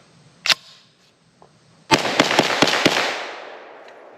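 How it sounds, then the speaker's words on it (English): A Grand Power Stribog SP9-A3 braced 9mm pistol fires outdoors: one sharp report, then after a pause a rapid string of about five loud shots with echoing decay. "let's run a couple of rounds through it, see how it does"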